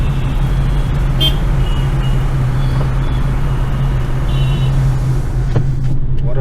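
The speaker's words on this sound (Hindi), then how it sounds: "ये देखो अभी भी ये बहुत ज्यादा ट्रैफिक खाली नहीं है" Dense road traffic on an expressway in the Delhi NCR area makes a loud, steady engine roar, with a few brief car horn toots poking through.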